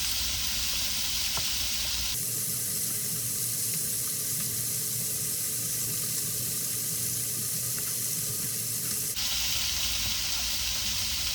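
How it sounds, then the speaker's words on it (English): Bacon frying in a pan, a loud, dense, steady hiss of sizzling fat that surges for several seconds in the middle and then settles back to a softer crackle. "Get that bacon going though, and I'm just going to cook all this"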